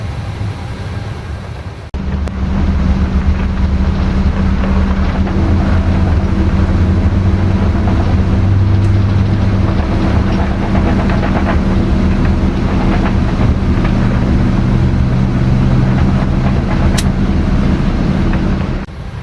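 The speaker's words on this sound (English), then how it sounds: "starting right engine" An airliner's right engine spins up in the MSFS2024 flight simulator, a loud, sustained low rumble and whine that kicks in after two seconds and holds steady to the end.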